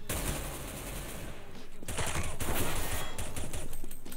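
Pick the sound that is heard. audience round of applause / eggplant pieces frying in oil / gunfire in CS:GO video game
gunfire in CS:GO video game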